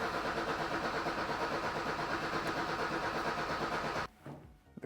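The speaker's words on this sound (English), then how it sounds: "The car doesn't start. Cranks, but doesn't start." A 1985 BMW E30 cranks over repeatedly without catching, a steady rhythmic starter churn lasting about four seconds before cutting off into quiet with faint clicks, close and moderately loud.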